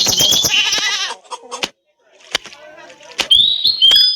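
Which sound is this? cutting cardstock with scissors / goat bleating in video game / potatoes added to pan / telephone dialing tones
goat bleating in video game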